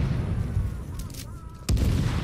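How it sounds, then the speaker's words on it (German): An enemy blows up in The Division, a co-op shooter, with a sudden loud low blast that thumps over ongoing game noise and background rumble. "Und der nächste explodiert."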